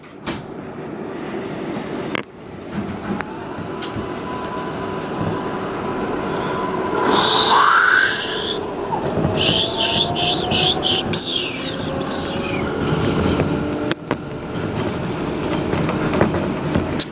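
A New York City subway 4 train, an R142A car bound for Woodlawn, rumbles steadily from inside with clattering track noise, rising motor whines, and squealing wheels and brakes, loud and continuous.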